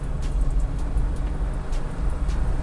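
An old Mercedes G-Wagon rolls slowly along a street, its steady low engine rumble and road noise continuous and fairly close, with faint brief ticks above and no talking.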